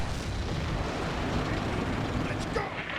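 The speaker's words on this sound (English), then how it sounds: "And now, yeah, the artillery barrage starts on the left flank as well near Troteval." An artillery barrage in the WWII strategy game Combat Mission: Beyond Overlord, near Troteval, heard as a steady, dense roar of rumbling explosions that continues without pause for the whole stretch.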